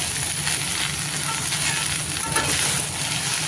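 Okra frying with gram flour, red chili powder and coriander powder, gently stirred in a pan, giving a steady close loud sizzle throughout with no talking.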